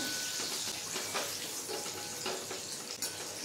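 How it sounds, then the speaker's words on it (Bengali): Chicken popcorn deep-fries in hot oil in a wok, giving a continuous close crackling sizzle with scattered pops and stirring clinks. "এইভাবেই উল্টে পাল্টে ভেজে নেব।"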